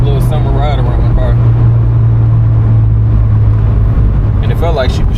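A 1987 Ford Mustang's 5.0 V8 engine drones steadily at close range with the top down while people talk over it, with wind and road noise filling the background.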